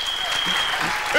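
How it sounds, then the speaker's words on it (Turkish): A crowd at a dance performance applauds in a brief, steady patter of clapping, with a thin tone running over it and a voice near the end. "Alkış."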